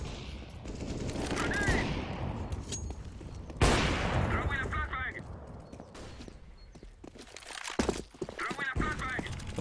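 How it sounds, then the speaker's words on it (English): Gunfire from the video game CS:GO, bursts of shots heard in several clusters over a busy game soundscape with footsteps and other effects, fairly loud throughout. "He hears the shots going on"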